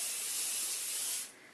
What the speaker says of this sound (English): you can take some Pam olive oil, spray, shake it up, give them a good spray so they get a little bit of a crisp to them.